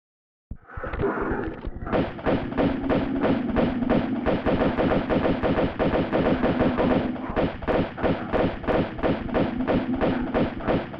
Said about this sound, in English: now I can just use my normal pistols